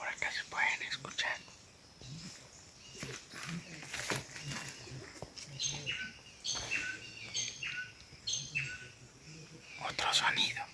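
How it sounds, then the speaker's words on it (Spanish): Birds call and chirp in a Veracruz forest, with short bright calls scattered across the whole stretch, some close and some farther off, over soft rustling and quiet whispered talk. "las aves han implementado diferentes sonidos para comunicarse"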